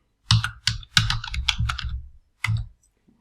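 Bursts of computer keyboard typing, a few quick clusters of key clicks with short pauses between them, close and fairly clear with no voices.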